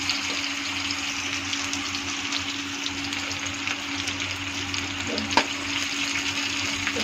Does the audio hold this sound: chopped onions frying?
yes